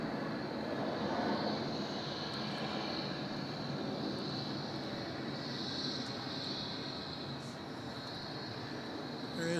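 A Boeing 737 jet bound for Denpasar at Melbourne Airport gives off a steady, broad roar that holds evenly loud from start to finish, with no voices.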